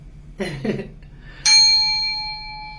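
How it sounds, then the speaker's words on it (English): A meditation centering chime rings once with a bright metallic strike and long sustained ringing tones that slowly fade, after a brief murmur of voice just before it. "I'm gonna start with our warning, our centering chime that I do, and then we're gonna do the 3 chimes."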